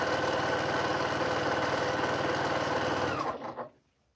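A sewing machine stitches Quilt of Valor quilt fabric with a steady, loud, rapid mechanical whir that slows and stops near the end, leaving silence.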